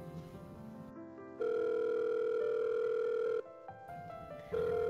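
A quiet telephone ringback tone sounds while a call waits to connect: one long steady ring of about two seconds, a pause, then the next ring beginning.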